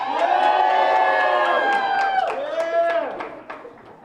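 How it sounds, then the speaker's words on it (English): Crowd at an election-night victory speech cheers and whoops loudly, a dense roar with shouts rising over it, easing toward the end. "And don't cheer too loud."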